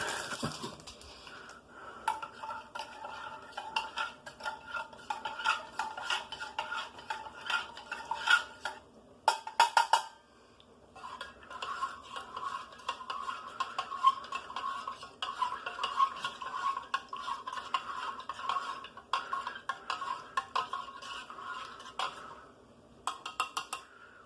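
Components of a 2017 US MRE beef taco meal being stirred: close, dry scraping and rustling in uneven bursts, briefly stopping twice, with light utensil clicks and no talk.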